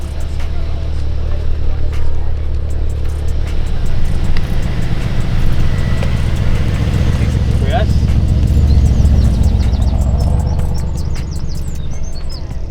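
Busy car park at a Father's Day car meet, with steady engine rumble and passing cars, faint bird chirps and people talking over a continuous loud crowd backdrop.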